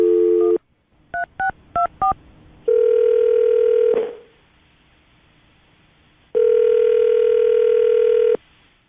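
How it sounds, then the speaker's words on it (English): A telephone line gives a quick series of dial-tone beeps, then a steady tone that cuts off with a sweep, a pause of near silence, and another long steady tone. The sounds are loud and clean, with no voices. "I'm going to dial the phone number, see if we can get her on the phone"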